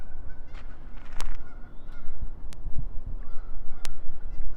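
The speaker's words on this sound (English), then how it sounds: "We have some geese that are coming for company here." Several geese honk repeatedly outdoors, loud irregular calls from more than one bird over a steady background rumble, with no talking.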